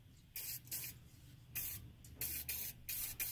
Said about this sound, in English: I can't believe you're spraying WD-40 in that